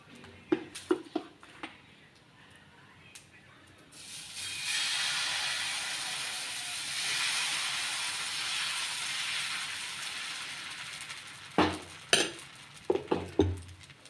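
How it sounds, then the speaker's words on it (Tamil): Dosa batter hits a hot pan with a sustained, broad sizzle that swells and holds steady for several seconds, framed by sharp clinks and scrapes of a ladle and utensils before and after. "ஒரு கரண்டி மாவு எடுத்து தோசை ஊற்ற ஆரம்பிச்சிடலாம்"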